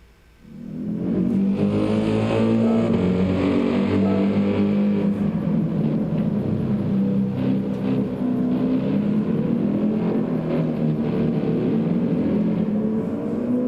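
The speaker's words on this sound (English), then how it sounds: "AMG sounds really good. Sounds really good going by right there." Mercedes-AMG Gr.3 race car in Gran Turismo 7 at Interlagos, engine roar swelling in suddenly from near silence and holding loud and steady as it passes, with layered revving tones.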